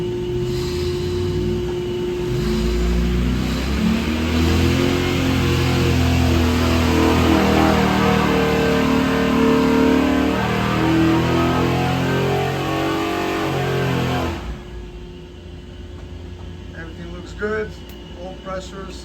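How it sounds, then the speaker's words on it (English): A 376ci LS engine roars on a dyno pull from about 4,000 to 5,500 rpm, its loud drone climbing steadily for around fourteen seconds before cutting off abruptly, with someone talking over it. "Now it's starting to come alive as it's revving up"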